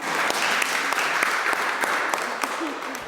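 Audience at a school board candidate forum in Ypsilanti claps steadily for about three seconds, a dense patter of many hands filling a room, with a faint voice underneath.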